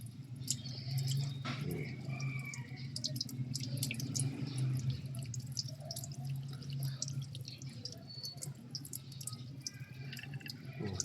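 Tap water runs into the cavity of a whole chicken to rinse it, with a steady splashing trickle, intermittent drips and wet squishes close by over several seconds.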